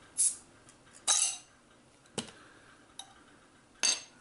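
A bottle of Sheppy's Dabinett cider is opened, a series of sharp clicks and metallic clinks with a brief hiss, spaced out and close in a quiet room.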